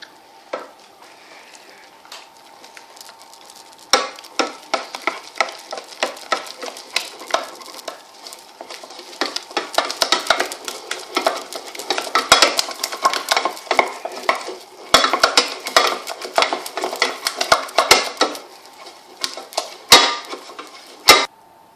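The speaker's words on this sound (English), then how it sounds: "Then mix vigorously into a smooth paste." Choux paste being beaten vigorously in a pan after the flour goes in, a continuous close scraping and stirring with dense rapid clicks of the spoon against the pan, louder from a few seconds in.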